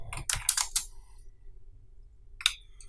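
Quick run of computer keyboard key presses while working in 3D modeling software, a short burst of clicks near the start, then one more isolated tap after a pause.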